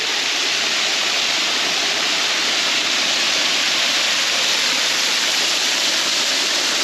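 A waterfall beside a rock face at a bush camp roars in a loud, steady, unbroken broadband rush, close by and with no talk over it.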